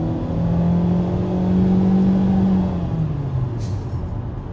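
A 2017 Honda Civic EX economy car accelerating hard, its engine note rising and droning steadily for a few seconds from inside the cabin, then easing off toward the end.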